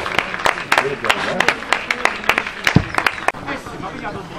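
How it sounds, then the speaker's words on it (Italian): Crowd at an amateur football match claps in uneven bursts, distinct sharp claps close by over murmuring voices and a single heavy thud partway through. "applauso."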